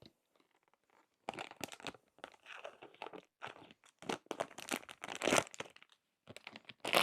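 Plastic bags of vacuum-packed rugs crinkling and crackling as they are handled up close, in irregular bursts of rustling after a quiet opening second.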